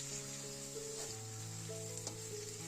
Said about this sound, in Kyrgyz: Май кызыган соң биринчи этти кууруп алабыз.